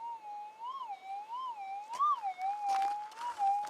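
A metal detector fitted with a Nugget Tech coil, used for gold prospecting in the Australian outback, gives off a thin, faint warbling tone that wavers up and down in pitch. It plays continuously and alone.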